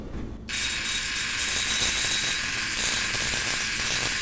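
Tesla coil driving a plasma ball attachment gives a steady, loud electrical hiss and buzz that kicks in abruptly after a brief quiet moment and holds unbroken throughout.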